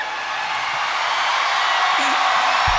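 A rock concert crowd in Toronto roars continuously at a Linkin Park show, a dense wash of distant cheering and screaming that swells slightly and holds steady throughout.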